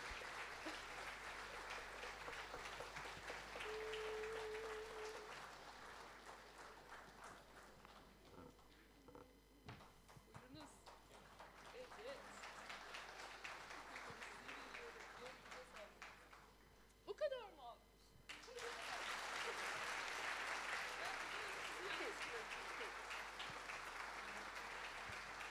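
Concert audience applauding at a symphony performance in Antalya, with bursts of clapping in the opening seconds and again toward the end, separated by a stretch of spoken announcement over the hall.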